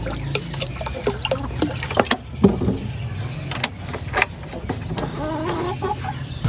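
A hen with newly hatched chicks, heard as soft scattered chirps and clucks amid nearby rustling and small knocks, close and moderately loud, with no talking.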